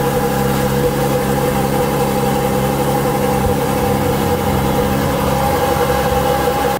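A Ferrari F12's V12 engine idles steadily after start-up, a loud, close, even rumble that holds without revving throughout.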